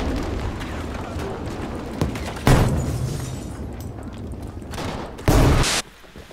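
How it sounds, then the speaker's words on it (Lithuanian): Game grenade blasts and gunfire crack through a dense rumble of battle noise, two sharp loud booms standing out over continuous rattling shots, with some talk underneath. "That's a grenade."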